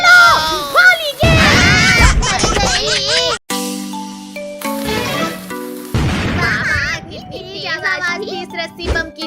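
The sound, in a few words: cartoon rope bomb firecracker exploding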